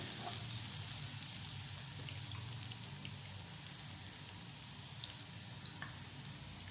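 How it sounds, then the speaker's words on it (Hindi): Ginger-garlic paste sizzles in hot oil, a faint, steady crackling hiss with scattered small pops, continuous and alone. "ऑयल गर्म हो चुका है। अब हम इसमें डालेंगे 1 टेबलस्पून अदरक और लहसुन का पेस्ट चॉप की हुई, और हम इसको 1 मिनट पकाएंगे।"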